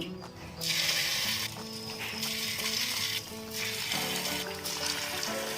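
Punugulu batter made with onions is dropped into hot oil, bursting into loud, close sizzling that swells in waves as each portion goes in, with a steady frying crackle between.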